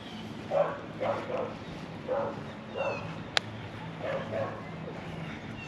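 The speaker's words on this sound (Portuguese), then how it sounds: "Os cachorros não vão morder eles." A few small dogs yip and bark in short, evenly spaced bursts at a Disney hotel campfire area, fairly quiet with a soft background murmur and one brief sharp click.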